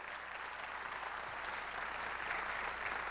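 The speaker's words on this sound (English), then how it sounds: "Give her a round of applause." An audience at a business seminar on hiring and management breaks into sustained applause, a dense, steady wash of clapping that swells slightly toward the end.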